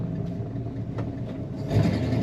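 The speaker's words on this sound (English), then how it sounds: "Nice sound coming out of this car." A 1963 Pontiac LeMans two-door sport coupe with a hood scoop and B&M shifter idles and rumbles steadily at close range, its low engine tone swelling louder toward the end, with no one talking.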